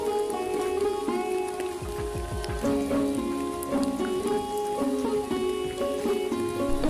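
Steady rain falls in an animated folk-tale setting, a continuous patter spread evenly through the whole stretch with a melodic music bed playing over it.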